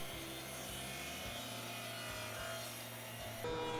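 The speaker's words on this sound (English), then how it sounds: "I then moved on to cutting both the rails and the pieces for the flower boxes to length" A saw cuts 2x4 lumber to length for rails and flower box pieces, a steady rhythmic rasping of strokes that stays faint, with a brief louder shift near the end.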